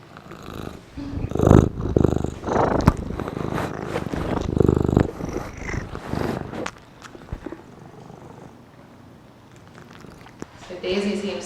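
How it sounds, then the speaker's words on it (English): An adoptable cat purrs with a deep rumbling tone, steady and close, while someone talks over it for much of the time before a quieter stretch. "She has a nice rumbling purr and is really happy"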